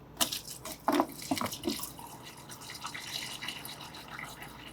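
Transmission fluid draining from the drain plug hole of a Volkswagen manual gearbox, soft liquid trickling and dripping into a pan, with a few louder splashes early on, then a quiet continuous flow.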